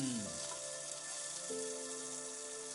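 Onions sauté in a pan for Kongunadu white biryani, giving a steady, close sizzle with a bright hiss that runs unbroken, while a tonal hum sits underneath and no one speaks.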